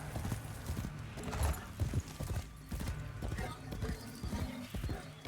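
Horse hooves clip-clopping in the Warframe video game, a steady rapid trot of hoofbeats with a brief whinny, up close and continuous, with game sounds mixed in.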